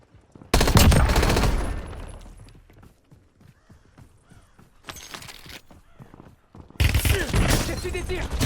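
Gunfire in the Warzone battle royale game comes in two loud bursts of rapid shots, with a quieter stretch between them where a game voice speaks.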